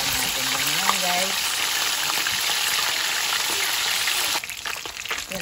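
Salmon heads frying hard in hot oil for sinigang, a steady loud sizzle and crackle that runs unbroken before easing off near the end, with a few faint voice traces underneath.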